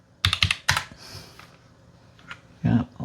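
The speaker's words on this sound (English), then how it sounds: "I'm clicking a little bit just to get off that, and it didn't do it for some reason" Clicking and typing at a computer keyboard and mouse, a few sharp close clicks in quick bursts with quiet gaps between them.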